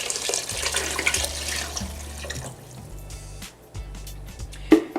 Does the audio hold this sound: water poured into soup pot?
yes